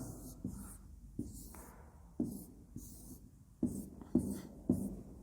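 Pen or marker writing out a probability distribution on a board during a math lesson, a series of quiet scratchy strokes and taps in short bursts, close and with no talking.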